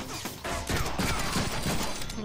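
A short flurry of gunfire in the Deadpool video game, with several quick loud shots over a busy backdrop of action sounds.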